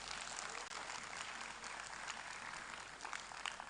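An audience at an awards orientation event claps steadily in a continuous, fairly faint wash that holds without letting up.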